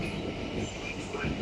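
A GB Railfreight Class 66 diesel locomotive, 66740, hauls a rake of new freight wagons past the platform at Tunbridge Wells in Kent, heard as a faint, steady low rumble of rolling wagons at a distance.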